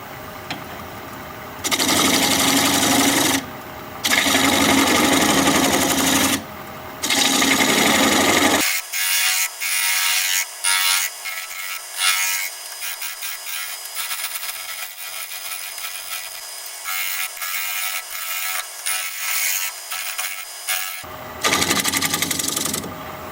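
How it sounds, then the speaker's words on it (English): A wood lathe cuts a bug-holed wooden blank that bounces on the spindle, giving loud rough scraping bursts separated by short gaps, then a long stretch of lighter, rapid chattering tool contact before a final loud burst. "Kind of hard to get a clean cut with all that bouncing around going on."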